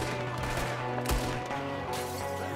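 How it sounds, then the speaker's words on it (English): Gunfire in the Red Dead Redemption 2 video game: a dense, steady burst of shots running the whole stretch, with a heavy boom near the middle, loud and close over a low droning game score. "Let's just go ahead and shoot these people."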